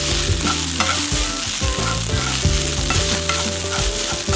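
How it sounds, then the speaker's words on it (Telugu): Cooked rice frying in hot ghee, sizzling loudly and continuously while a spoon scrapes and stirs it around the pan in repeated strokes. "ఇప్పుడు ఇలా గీలో ఫ్రై చేసుకున్నాక మనం ముందుగా కుక్ చేసి పెట్టుకున్న రైస్ వేసుకున్నాం"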